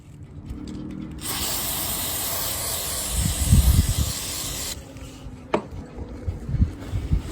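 An aerosol cleaner hisses in a steady spray for several seconds into the throttle body of a Hyundai Veloster with a rough, erratic idle, close up, with some clunks and handling noises before and after.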